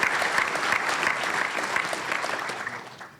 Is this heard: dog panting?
no